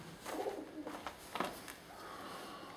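Pigeons coo softly in a reverberant building attic space, low murmuring calls with a few brief flutters and scrapes, no voices.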